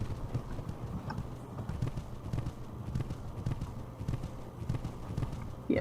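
Hooves clip-clop in a steady galloping rhythm as a horse runs uphill in the Saddle Club Willowbrook Stables video game, the beats even and close, with a brief neigh or snort near the end.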